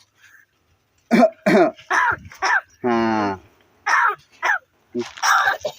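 A talking crow imitates a cough, giving a series of loud, close, harsh coughing and throat-clearing rasps with one longer buzzing croak in the middle, while a person coaxes it between the sounds.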